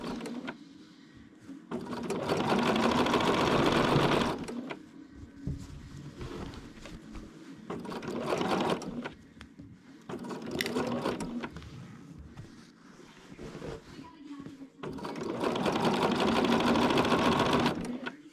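A sewing machine stitching a long seam, running in bursts of steady whirring and rapid needle chatter separated by short pauses, close and clear.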